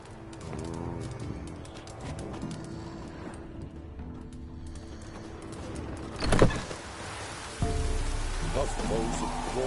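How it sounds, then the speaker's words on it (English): Rain falls in The Witcher 3: Wild Hunt, a soft patter under game sounds and tonal effects, with a sudden louder burst and then a heavier steady downpour near the end. "Buffaloes have brought us rain."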